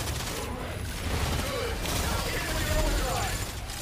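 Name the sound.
gunfire in the video game Exoprimal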